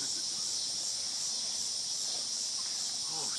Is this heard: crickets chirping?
yes